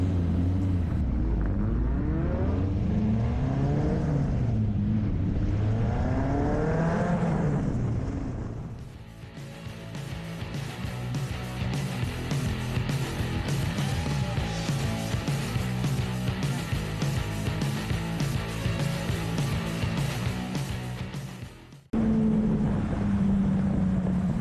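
A Formula Vee race car on a circuit during a race, its engine droning steadily and loudly with shifting pitch as it runs laps, wind buffeting the onboard microphone, ending with an abrupt cut.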